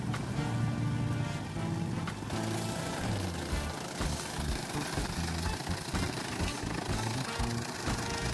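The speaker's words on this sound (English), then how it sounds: "Designed to shred harvested banana trees, this machine is incredible." A machine shreds harvested banana trees for compost, a loud continuous engine roar with rough, knocking mechanical chatter and grinding that holds steady throughout without pause.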